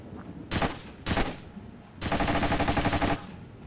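Gunfire in Splinter Cell: Chaos Theory: two sharp single shots a half-second apart, then a loud sustained automatic burst lasting over a second, close and crisp with no talk.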